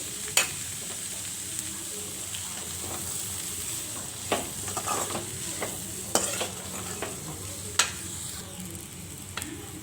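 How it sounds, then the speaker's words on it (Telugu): Boiled black-eyed peas coated in masala are stirred in a pan over a low flame, a soft, continuous sizzle with occasional sharp taps and scrapes of the spoon against the metal. "లో ఫ్లేమ్లో పెట్టుకొని వీటన్నిటిని మిక్స్ అయ్యేలాగా ఒకసారి కలుపుకోవాలి"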